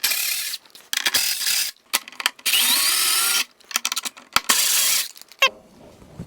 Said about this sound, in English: we're gonna remove the 1, 2, 3, 4 screws to get the wind deflector off